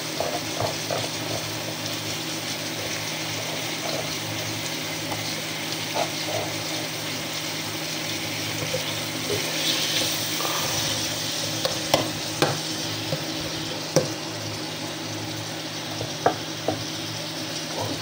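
Tomatoes sautéing in a pan for a chicken-feet soup, a steady low sizzle with scattered soft scrapes and taps of stirring, a few sharper clinks near the end, no voices.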